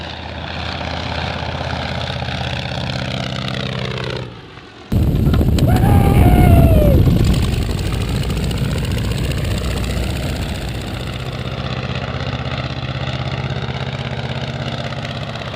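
A Polikarpov Po-2 biplane's engine runs loud and close, droning steadily before a brief cut, then surging back with a rising whine and settling into a continuous idle-like rumble.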